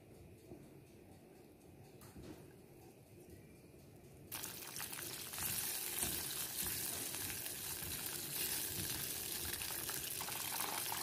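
Margarine, water and sugar heat in a pan, a faint bubbling at first that jumps to a loud, steady sizzling hiss, with occasional stirring scrapes.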